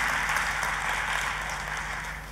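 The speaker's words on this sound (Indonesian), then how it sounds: "Kita kasih tepuk tangannya yang paling meriah buat Tuhan kita." A church congregation claps together in one continuous wash of applause that stays steady and broad before starting to fade. No voices come through.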